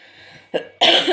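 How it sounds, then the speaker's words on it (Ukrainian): A single close cough bursts out over faint background hum, after a softer throat sound just before it. "щоб ви так не кашляли, як я"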